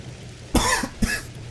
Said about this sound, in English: I've still got a little bit of a cough